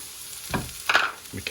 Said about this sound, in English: you pop some of the coriander powder in first